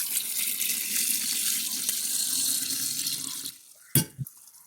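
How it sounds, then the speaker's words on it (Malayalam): Boiled, cooled water pours in a steady stream into a jar of chambakka (red apples) for homemade wine, running for several seconds before stopping, followed by a sharp clink of glass. "ഇതുപോലെ തിളപ്പിച്ച് ആറിച്ച വെള്ളം മാത്രം ഇതിലേക്ക് ഒഴിക്കുക."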